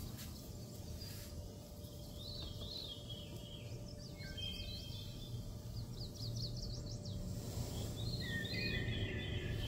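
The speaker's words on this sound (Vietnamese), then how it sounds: "Tiếng chim hót nha." Recorded birdsong plays through a Panasonic HD505 stereo system, with a few thin chirping phrases rising over a steady broadband hiss and low rumble.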